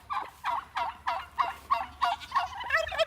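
Free-ranging backyard turkeys gobble in a quick repeated series of about seven rippling calls, close and clear against a quiet background.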